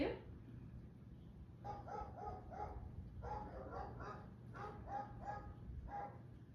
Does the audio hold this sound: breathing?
no